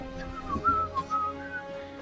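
A person whistles a short warbling tune that imitates birdsong, a few rising and falling notes with small pauses, up close and alone with no talking.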